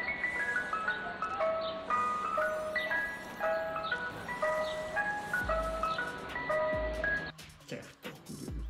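Ice cream seller jingle from the Brawl Stars video game, a bright chiming melody of repeated tuneful notes playing steadily and loudly over dense game sound effects, with no talk.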